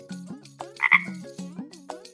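A frog croaking close by, a rapid series of low, rhythmic throaty pulses repeating several times within two seconds, alone without speech.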